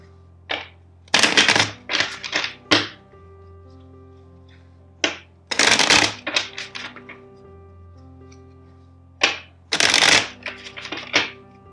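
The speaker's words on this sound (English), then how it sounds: "let's shuffle four times the deck." A deck of tarot cards is riffle-shuffled three times, each burst a quick ripple of flicking cards followed by a brief riffle, with quiet pauses between.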